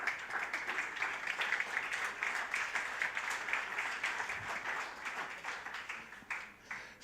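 Conference audience applauding panelists at an acoustics and sound-materials event, a dense, steady wash of clapping that holds for several seconds before thinning slightly at the end.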